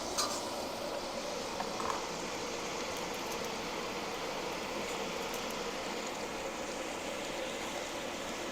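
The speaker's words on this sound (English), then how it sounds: "that is still frying there" Steady crackling sizzle of curry duck frying in a pan, continuous and fairly loud, with no talking.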